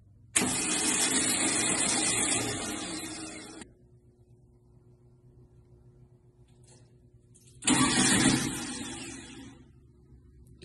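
A Volkswagen Baja Bug engine cranks and fires twice, each loud burst of starter churning and rough running lasting a few seconds, separated by a quiet pause with a faint low hum.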